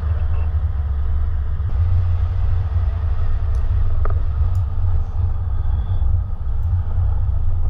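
A Toyota 76 series 4WD crosses humps on a Victorian desert track, its low engine rumble steady and close, with a few faint knocks and rattles from the suspension.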